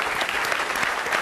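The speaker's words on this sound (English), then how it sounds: "so big round of applause for Tyler" An audience at a conference session applauds in a brief, dense burst of clapping that holds at an even level throughout.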